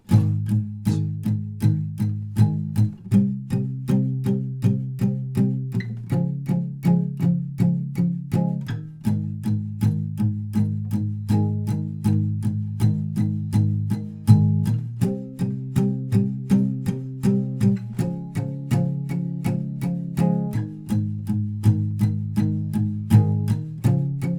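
Acoustic guitar strums the verse chords of a song with palm muting, a steady, close, dry chugging rhythm with regular chord changes and no voice.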